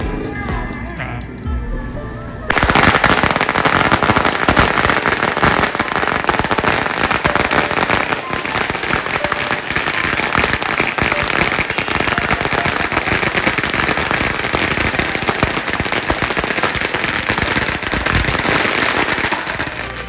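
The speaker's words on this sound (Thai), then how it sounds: "พี่เขาก็กำลังเตรียม จุดประทัดในประรับพิธีนะคะ" Firecrackers go off at a Chinese New Year ceremony in Pak Nam Pho, Thailand, starting after a quiet moment and then rattling in a loud, dense, continuous barrage of rapid cracks and bangs that lasts to the end.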